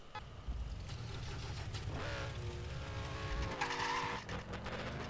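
A car drives in the game SL 1, its engine whining and revving up and down in pitch over a low rumble, with short tire squeals and skids, no talk.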